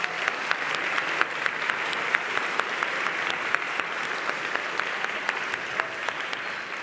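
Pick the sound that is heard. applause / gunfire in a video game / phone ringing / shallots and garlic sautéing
applause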